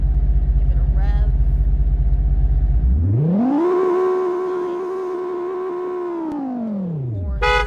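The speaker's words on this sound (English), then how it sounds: "Give it a rev." Engine of a Fox Mountain Motors Dust car in a video game idling low, then swelling into a sustained rev that holds steady before dropping back down, loud and close with no talk over it.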